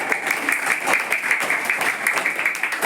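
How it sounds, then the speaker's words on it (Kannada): Classroom of eighth-grade students clapping together to welcome classmates forward, a steady, dense round of applause lasting throughout, fairly close and loud with no talking. "ನಮ್ಮ ವಿದ್ಯಾರ್ಥಿಗಳನ್ನು ಚಪ್ಪಾಳೆಯ ಮೂಲಕ ಅವರಿಗೆ ಸ್ವಾಗತಿಸಿ"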